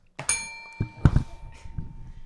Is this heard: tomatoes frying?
no